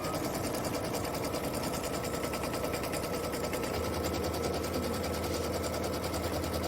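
A sewing machine runs a tack-down placement stitch on batting with a fast, steady mechanical whirring and stitching rhythm. It is loud and close, and partway through a low hum joins it.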